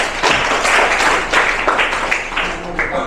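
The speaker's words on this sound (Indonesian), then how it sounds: "Kita beri aplaus ya yang meriah untuk kelompok 3" An audience claps for a student group at a teaching practice session, a dense, loud burst of applause that carries on steadily for the whole stretch.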